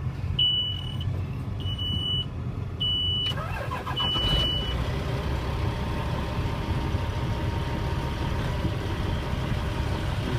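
A 2000 Peterbilt car hauler's Caterpillar 3406E diesel engine idling steadily and loud up close, with a few short high electronic beeps in the first seconds before the rumble carries on alone.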